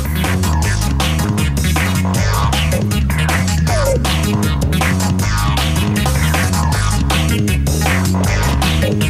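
A matchbook machine cuts matchstick strips into rows and trims covers to width, producing a loud, constant mechanical throb with rapid, evenly repeating clacks over a low hum.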